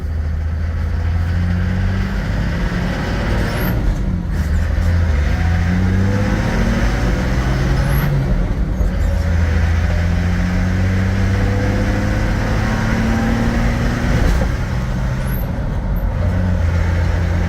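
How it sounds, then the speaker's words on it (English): A 1978 Toyota Land Cruiser on a test drive, its engine droning loudly and steadily from inside the cab with rising and falling pitch as it shifts through gears, with constant road rumble. "we're going on a quick test drive here"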